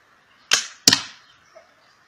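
Two sharp arrow impacts strike an archery target board in quick succession, each a crisp thwack with a short ringing decay, followed by quiet.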